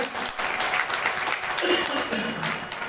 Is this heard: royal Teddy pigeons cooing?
no